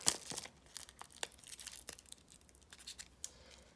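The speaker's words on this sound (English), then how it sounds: "Rip them out." Paper stickers are ripped out of a sticker maker for an Easter bunny treat bag, giving a string of quick, close tearing and crinkling sounds with scattered sharp snaps and no talking.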